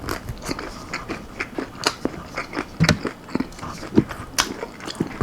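Crunchy almond-flour-coated chicken wings chewed up close, with repeated crisp bites and crackly chewing sounds in an irregular rhythm, fairly loud and without talk.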